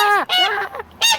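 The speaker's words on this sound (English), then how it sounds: "Watch out, there's a wild goose." A wild goose honks loudly and close by near an abandoned house: two quick nasal calls, a brief pause, then a third honk.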